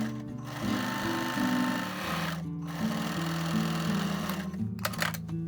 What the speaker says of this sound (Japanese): こちらをミシンで走ります